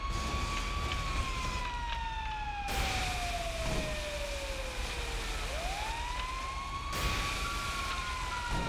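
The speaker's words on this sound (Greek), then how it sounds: "Πυροσβεστική." Fire engine siren wailing loudly and close, its pitch gliding slowly down then sweeping back up in a long continuous tone, with steady road and engine rumble underneath.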